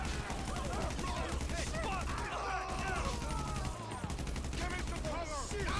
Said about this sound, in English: I'm gonna shoot up the area